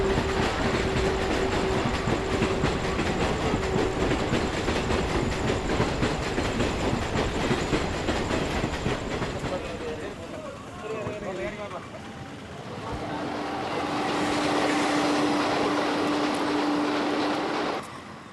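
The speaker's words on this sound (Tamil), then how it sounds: "தடதடத்தது ரயில்." A passenger train rattles steadily along the rails in a sustained, loud rumble, easing briefly midway before building again, with a tonal hum over the clatter.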